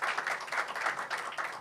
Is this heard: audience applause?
yes